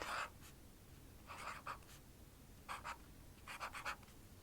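Quiet pen strokes from a grassy green pen scratch across paper in several short clusters, soft and close, with pauses between words.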